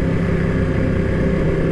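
An MT motorcycle cruising in fourth gear on a touring ride in Bali gives a steady, loud mid-pitched engine drone with wind rumble, constant and unbroken for the short stretch.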